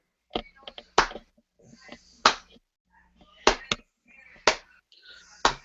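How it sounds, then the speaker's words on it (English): Slow, separate hand claps ring out during a tabletop fantasy role-play session, loud and close with gaps between them. Softer sounds and brief voice-like noises fill the spaces. "what starts as a slow clapping of a single person becomes the clapping of 5 individuals"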